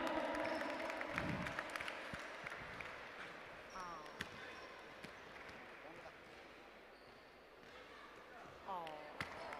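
Crowd claps scattered through a basketball tiebreaker in an indoor league game, mixed with ball bounces, squeaking shoes and a commentator talking over the arena noise.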